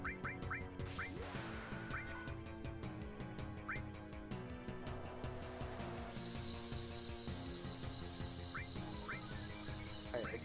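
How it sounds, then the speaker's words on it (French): A small bird in Final Fantasy VII New Threat gives short, high chirping calls in small clusters, repeating over steady game music and ambience, with no speech. "Donc là, nous avons un oiseau. Le petit oiseau."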